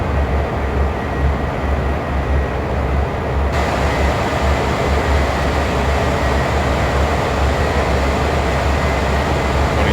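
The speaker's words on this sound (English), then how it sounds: "Now we should have a train going by here." A train passes in the Train Sim World video game, a loud, steady rumbling roar of wheels and carriages that fills the scene without letup, heard alone with no talk.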